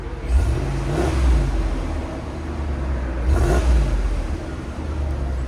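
Stock exhaust of a 2020 Ram 2500 with a 6.4L Hemi V8, two short rising revs from a low idle rumble, close by and fairly quiet, each swelling and falling back.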